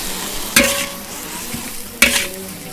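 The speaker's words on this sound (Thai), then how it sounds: "ใส่เกลือเล็กน้อย แล้วเราก็ผัด" Leafy vegetables stir-fried in a little oil with a pinch of salt, a constant close sizzle broken by two sharp bursts as the spatula tosses the pan.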